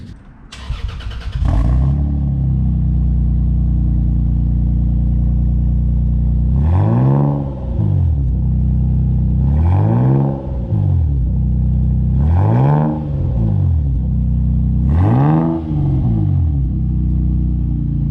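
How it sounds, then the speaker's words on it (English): A Toyota Supra MKIV with an HKS exhaust and its silencer removed fires up with a loud burst, settles into a deep, rumbling idle, then gives four evenly spaced revs that rise and fall, close and loud. "We didn't rev the car as high on this clip because we were revving the car like all day"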